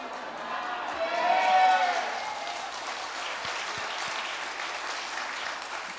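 A congregation at a New Year church revival meeting claps in steady, full applause that swells briefly before settling into even, continuous clapping.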